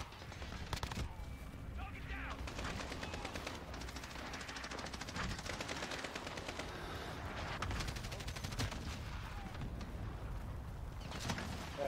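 Gunfire in the video game Modern Warfare comes as rapid automatic bursts and scattered shots, dense and continuous at moderate level, mixed with other game sounds.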